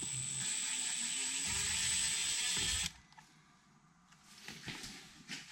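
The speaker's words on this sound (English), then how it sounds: "you have a screw right here, a Phillips head screw that attaches to this panel. So we'll remove it." A Phillips head screw is backed out of a dash panel on a Honda Civic, giving a steady close mechanical ratcheting whir for about three seconds, then quieter scattered handling clicks.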